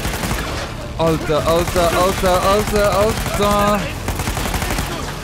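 Rapid automatic gunfire from the video game Uncharted 4, dense bursts of shots over a loud game soundtrack, with someone talking excitedly over it.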